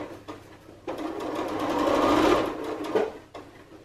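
A sewing machine bastes a Dylan jacket in one continuous burst of close, rapid stitching lasting a few seconds, framed by short clicks and handling sounds before and after.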